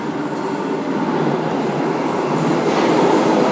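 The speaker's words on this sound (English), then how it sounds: "Another train approaching platform 2, Bondi Junction service." A Sydney Trains service rumbles steadily alongside as it approaches platform 2 at Martin Place station, a continuous rolling roar that builds slightly toward the end, with no voices.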